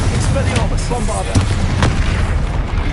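A Bombarda spell explosion in Hogwarts Legacy lands as a dense, loud booming blast with sharp cracks inside it, filling a short burst of noise close up.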